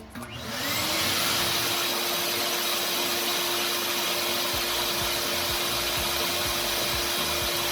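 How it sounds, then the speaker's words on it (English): A wet/dry shop vacuum powered through an inverter whirs up to speed and then roars steadily nearby with a loud, constant motor whine and airflow rush, no voices. "let me go ahead and turn on the wet dry vac"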